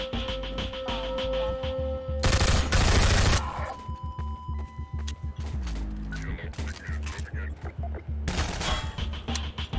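Bursts of automatic gunfire from a weapon in the VR shooter Half-Life 2 VR, two loud dense volleys a few seconds apart over droning game ambience, with a player's voice briefly audible.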